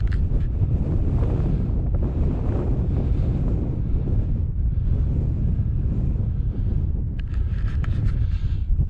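Strong wind blows over The Merrick, a Scottish hill, as a continuous heavy roar buffeting the microphone, loud and close, swelling and easing slightly in gusts with no voices.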